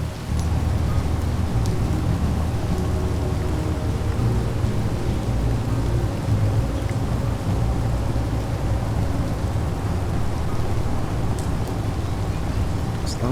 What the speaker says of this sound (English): Guess this is heavy rain?